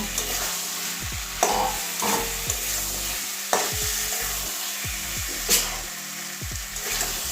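Soya chunks are stir-fried with fried potato and pointed gourd for a Bengali curry. A loud, constant sizzle fills the pan, with a spatula scraping and stirring in repeated sweeps and no voices.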